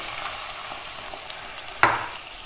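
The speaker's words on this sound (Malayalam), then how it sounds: "1 കപ്പ് ചൂട് വെള്ളമാണ് ഞാനിവിടെ ഒഴിക്കുന്നത്." Hot water is poured into a sizzling cauliflower curry masala in a pan, bringing a steady frying hiss and then a sudden louder splash and burst of sizzle near the end.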